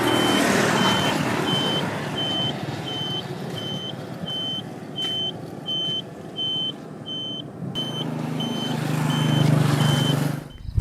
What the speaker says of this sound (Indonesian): ketika kita menyalakan lampu sen, maka akan ada bunyi seperti halnya truk mau mundur ya